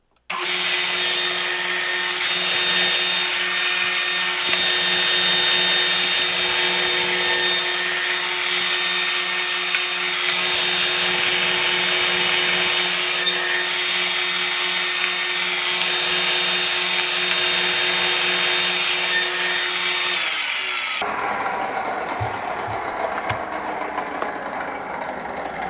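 A saw running steadily for about twenty seconds as wood is pushed through on a cutting sled, a loud sustained whine with a strong low hum, then the motor cuts off and winds down near the end.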